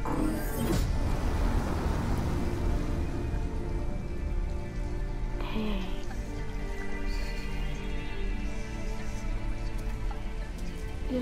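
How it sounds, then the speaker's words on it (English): Pouring rain in the video game Detroit: Become Human hisses steadily on surfaces for the whole stretch, a dense constant wash with a low rumble beneath and no talk. "it's pouring rain"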